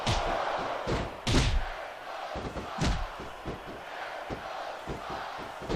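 A wrestling arena crowd roars and cheers in WWE SmackDown vs Raw 2006, in waves of loud shouting broken by heavy slams and thuds.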